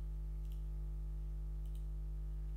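A right click on a computer mouse in Windows, two faint, brief clicks about a second apart over a steady electrical hum.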